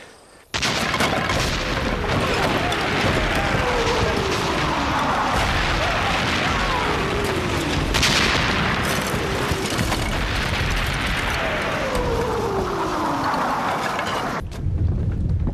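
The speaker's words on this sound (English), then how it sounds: "No, Mr. Bracegirdle. That is cannon." Sustained cannon artillery fire from a French battery, a continuous roar of heavy booms and rumbling blasts that fills the whole stretch, loud and close, with no talk over it.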